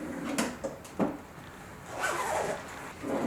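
A drawer on a makeup vanity slides and knocks shut, several short wooden thumps and scrapes close by, with a longer sliding rustle partway through.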